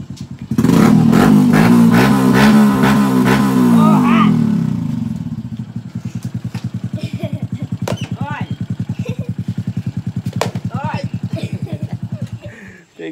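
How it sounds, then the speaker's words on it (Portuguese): A motorcycle engine revs loudly for several seconds, then falls back to a steady, rapid putter that runs nearly to the end, with people talking over it. "O cara já tá com dor de cabeça, ainda vem com essa lesura dessa moto."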